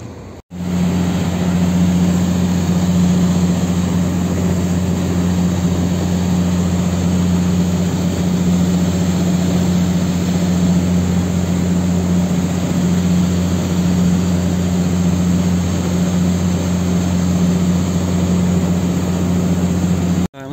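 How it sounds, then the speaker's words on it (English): The steady, droning engine of a vehicle ferry passing at Redland Bay, a loud continuous low hum with a tonal throb that holds throughout with no break. "Well, look, the vehicle ferry's coming through."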